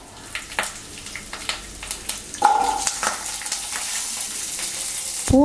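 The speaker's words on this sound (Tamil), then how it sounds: "இதில் கொஞ்சம் கருவேப்பிலும் அதோடு போட்டு வதக்கணும்" Dried red chillies and curry leaves sauté in a pan for a horse gram chutney. A steady crackling sizzle runs under intermittent stirring clicks, ending with a metallic utensil scrape.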